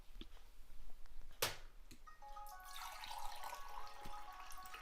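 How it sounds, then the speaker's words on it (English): Water poured by hand splashes and trickles close by at low volume, with a sharp splash about a second and a half in and a steadier running stream over the last half. "I'm using my hand to pour water real quick."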